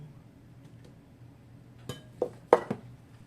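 Fruit cocktail being stirred into a buko (young coconut) fruit salad in a bowl, heard as a few sharp clinks of a utensil against the bowl in quick succession over a quiet background.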